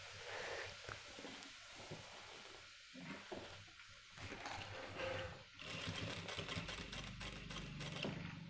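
Sewing machine stitching along a cut line on a men's pant belt, a steady mechanical running hum that grows louder and more rapid in the second half, fairly close.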